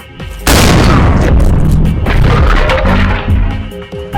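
A single loud gunshot bursts out in a video game, a heavy boom followed by a rolling, crackling tail that lingers for several seconds without any speech over it.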